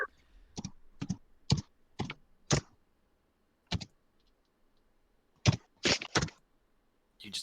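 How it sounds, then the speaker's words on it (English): Keys of a computer keyboard jammed hard in quick irregular bursts of sharp clicks, with clusters of rapid taps separated by short silent gaps, close and fairly loud. "You just hear him jamming the keys of the keyboard"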